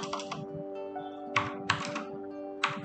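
Keystrokes on a computer keyboard as a pip install command for PyQt5 is typed on Windows 11: close bursts of clicking taps in short clusters with pauses between, no talking.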